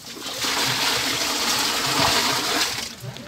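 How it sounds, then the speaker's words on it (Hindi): Water splashing and pouring into a container in a rustic washroom at Siri Paye, Khyber Pakhtunkhwa, a steady close gush lasting a few seconds before tapering off, heard alone. "ये पानी भरना है आपने इसमें से"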